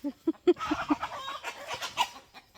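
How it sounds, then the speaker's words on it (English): Hens cluck in a quick run of short, close clucks, then a looser scatter of farmyard clucking and scratching sounds continues behind them. "she's chasing after that rooster"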